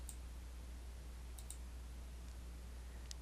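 A few sharp, faint mouse clicks in software, spaced irregularly over a steady low electrical hum, with no voices.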